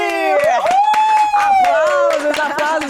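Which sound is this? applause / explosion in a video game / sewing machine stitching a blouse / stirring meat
applause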